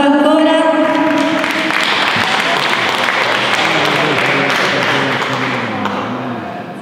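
An audience at the Premio Solidarietà Italiana award ceremony in Rome applauds after an opera singing performance. A brief voice opens, then dense, sustained clapping fills the room for several seconds before slowly thinning out.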